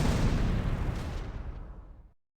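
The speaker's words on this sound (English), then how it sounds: "Got the mortar rounds in there." A mortar strike in the computer war game Close Combat sets off a loud, dense blast whose rumble fades across two seconds before cutting out abruptly.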